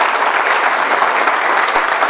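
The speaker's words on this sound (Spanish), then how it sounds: "os pido un fuerte y calurosísimo aplauso para Nacho" Conference audience breaking into loud, dense applause to welcome a speaker at an inauguration event, a continuous close wash of clapping with no voices.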